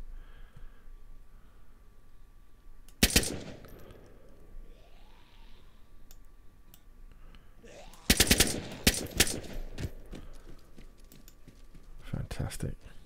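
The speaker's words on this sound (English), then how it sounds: "should we test out this gun? Oh, the good old M4" An M4 rifle in DayZ fires bursts of rapid, sharp shots in separate clusters, loud and close, with faint quieter sounds between the bursts.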